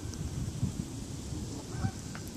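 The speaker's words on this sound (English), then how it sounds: "So much geese!" A flock of geese honks continuously in the distance, overlapping calls forming a noisy, steady clamor with a few louder honks standing out.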